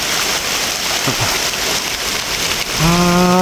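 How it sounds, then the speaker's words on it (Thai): Heavy rain pours down outdoors in a steady, loud hiss that fills the whole stretch, with a sustained tonal hum rising over the downpour near the end. "ฝนตกขนาดเลยพี่น้อง"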